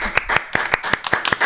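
A small group on a podcast applauds its guest with a quick run of distinct, close hand claps at a brisk, slightly uneven rhythm.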